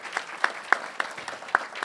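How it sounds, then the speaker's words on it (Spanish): An audience applauds an economist at a book launch event, a short burst of steady clapping with distinct sharp claps standing out. "un aplauso para él"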